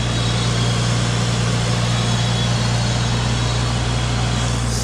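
A car engine idles steadily with a smooth, even low hum and no revving, close and constant throughout.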